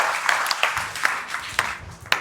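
Classroom applause: several scattered claps ring out in a loose, uneven rhythm over a soft room background, fairly near and moderately loud.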